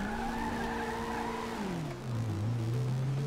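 A car in a crime-mission driving video game roars loudly and continuously, its engine pitch sliding downward while tires squeal and skid, with no voices over it.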